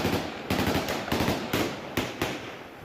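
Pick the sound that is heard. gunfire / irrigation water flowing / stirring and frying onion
gunfire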